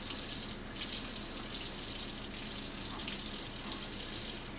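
Kitchen tap runs lukewarm water in a steady, close, hissing stream while pickles are prepared, with no talk over it.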